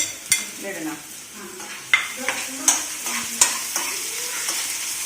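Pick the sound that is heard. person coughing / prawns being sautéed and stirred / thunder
prawns being sautéed and stirred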